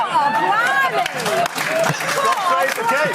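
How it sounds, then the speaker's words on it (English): Audience in a played broadcast clapping and cheering, a dense steady wash of applause and voices with speech mixed through it, loud and continuous throughout. "And then everyone claps"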